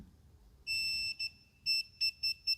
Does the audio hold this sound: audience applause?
no